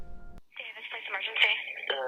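Phone call to police reporting a double homicide: narrowband telephone audio with a click at the start, then a voice speaking over the line in a thin, filtered tone.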